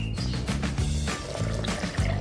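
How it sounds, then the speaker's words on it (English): Natural dyes are poured into a mixture of sugar and salt, making a steady, close liquid pour with a gurgling, rumbling texture that lasts the whole moment. "pour the natural dyes that we have made before"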